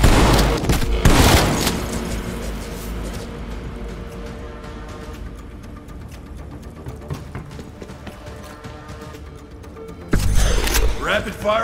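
Rapid gunfire in Call of Duty Cold War Zombies, heard as a loud burst of shots at the start and again near the end, with a busier, quieter stretch of game sounds and a voice in between.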